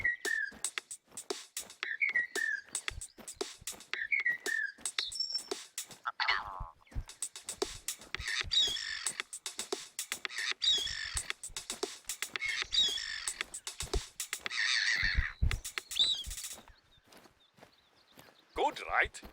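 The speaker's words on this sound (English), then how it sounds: "We recorded the call of some birds and made this" A short song built from recorded bird calls, playing in the video game Revontuli Coast: chirpy whistled bird-like phrases and rhythmic clicks in a busy musical loop, fairly loud throughout with no talking.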